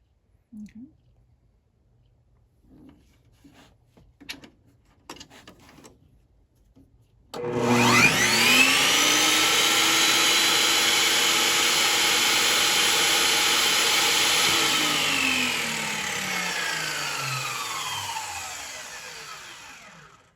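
A Bosch 4100 XC table saw spins up after a few quiet clicks, then runs with a loud, steady motor whine and whir before starting to wind down and fading off.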